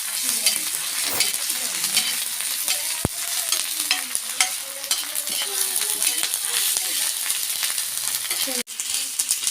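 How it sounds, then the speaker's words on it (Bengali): Garlic paste and ginger paste sizzle steadily in a pan on a tawa while a spoon stirs and scrapes through them, with a loud, continuous fry broken by clinks of metal against the pan. "এরপর দিয়ে দিলাম কিছুটা রসুন বাটা, এরপর দেব কিছুটা আদা বাটা, দিয়ে ভালো করে নাড়িয়ে চাড়িয়ে নিলাম"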